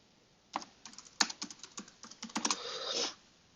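Computer keyboard keys tapped in a quick irregular burst while entering a Google search, close and clear, ending in a short run of rapid strokes, no talking.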